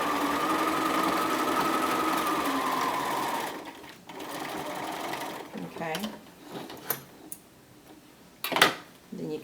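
A sewing machine understitches a bomber jacket pocket, running fast and steady up close for about four seconds before stopping. A few scattered clicks and handling noises follow.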